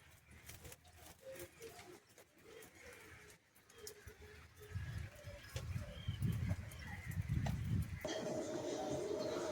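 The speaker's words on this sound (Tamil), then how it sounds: "இதில் இந்த குருவிங்களும் இருக்குது." Sparrows chirp in short repeated calls scattered through steady rain, with the rain and rustling growing louder in the second half and a voice briefly audible.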